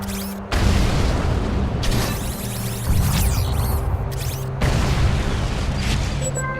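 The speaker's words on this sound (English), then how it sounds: "here come the bombs" Loud, sustained rumbling booms from bombs exploding in the strategy game Codex of Victory, several blasts rolling one into the next with brief gaps and a dense, heavy roar.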